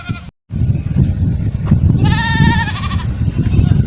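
Free-roaming goats kept by villagers beside a river, with one clear wavering bleat rising over loud wind-like rumble and outdoor noise, fairly near.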